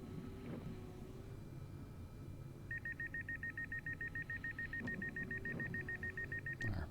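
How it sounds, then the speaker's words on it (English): A cab alarm in Train Simulator 2022, on an alpine winter FKKB scenario, gives a fast, steady string of evenly pulsed electronic beeps for about four seconds over a low rumble of the moving train. "Our pleasant alarm of some sort"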